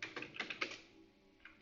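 Typing on a computer keyboard produces a quick run of about six soft, close key taps, then a pause and one last faint tap, with no talk.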